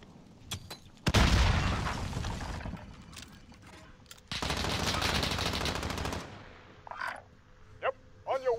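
Loud bursts of automatic gunfire and booms fill a video game battle as a frag grenade is tossed, with two long dense volleys, scattered single shots and brief voices near the end.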